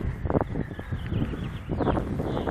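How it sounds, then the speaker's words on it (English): Steady wind blowing outdoors in Utah in June, a broad rushing roar with gusty swells that buffets the microphone throughout, loud and close with no talk. "And again, we're dealing with the wind."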